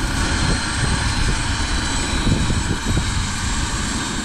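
An RC MD 600N helicopter flies nearby with a steady, loud whirring drone of rotor and motor, holding an even level throughout without voices.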